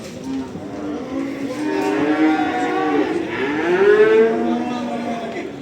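Cattle at a livestock bazaar low in long, drawn-out moos, one call swelling and then a second rising after it, near and loud against the murmur of the market.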